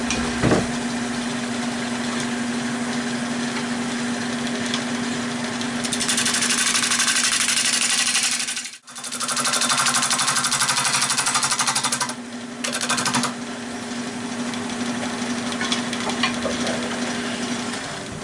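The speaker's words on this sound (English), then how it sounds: "I'll start nibbling away this way with the bowl gouge to help keep the weight off of this" A bowl gouge cuts into a pine bowl spinning on a wood lathe, giving a steady close machine drone with a constant motor hum, a brief drop near the middle and rougher cutting bursts later.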